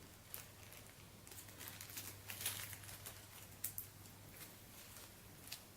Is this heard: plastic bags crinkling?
yes